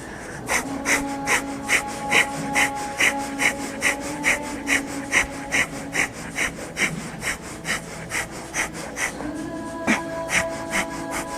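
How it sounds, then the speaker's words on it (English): Rapid, forceful breathing through the nose, as in a kundalini yoga breath of fire, comes as a fast, even train of sharp sniffing pulses, close and loud, with a faint tonal hum underneath. "Just breathing as fast as you can through the nose"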